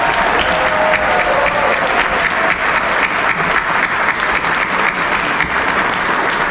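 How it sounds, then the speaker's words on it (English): Loud, full applause from a charity gala dinner crowd honoring the chefs, a dense continuous wall of clapping lasting several seconds without any speech. "Give them all a huge round of applause."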